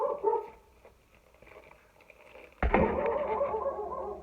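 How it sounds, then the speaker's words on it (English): Several house dogs bark in a burst of repeated, fairly close yaps and woofs that start abruptly partway through and continue to the end, after a quieter stretch of indoor room sound. "Oh, dogs, shush!"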